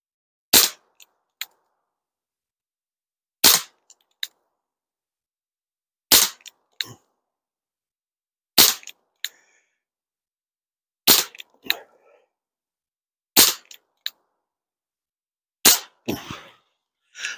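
Webley Mk 6 revolver fired on a pistol range: seven loud, sharp shots spaced about every two and a half seconds, each followed by a brief echo and small clicks, with no voices over them.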